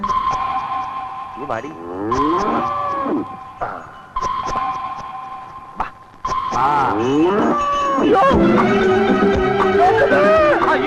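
A cow moos several times in long, drawn-out calls, with loud voices and other busy noise around it.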